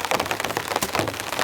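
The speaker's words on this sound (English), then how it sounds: "The rain's coming down pretty heavy, quite loud" Heavy, steady rain drums on a tent at a windless campsite, a dense continuous patter close by with no voices.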